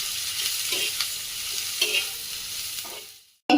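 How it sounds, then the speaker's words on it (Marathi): Chopped onion frying in oil in a pan, a steady close sizzle with a few soft stirring scrapes, cutting off abruptly near the end. "कांदा परतल्यानंतर त्यामध्ये थोडंसं तेल टाकून घेऊया, यामुळे कांदा लवकर भाजला जातो"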